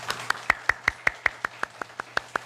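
Church congregation claps in unison for visiting members, about a dozen sharp, evenly spaced claps in a steady rhythm, fairly close and alone.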